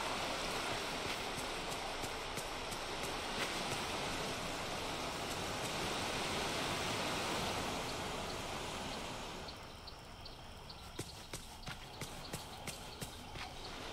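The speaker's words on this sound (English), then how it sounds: "Near the waterfall." Steady rushing water from a waterfall in the video game Disney Dreamlight Valley fills the scene as a broad continuous wash, easing slightly toward the end while faint clicks and taps sit above it.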